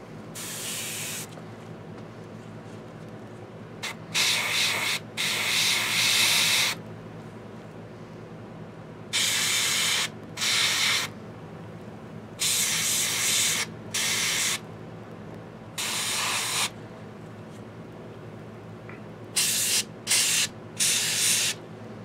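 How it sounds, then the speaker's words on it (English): An airbrush sprays skin-tone paint onto a Reaper Hill Giant miniature in short repeated hissing bursts of varying length, close and steady, separated by pauses over a low background hum. "I'll get that done with the airbrush"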